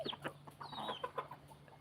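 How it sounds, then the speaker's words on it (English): A hen clucks in a quick series of soft, close calls, faint and irregular, with no talk. "I think the mother of that is this hen here."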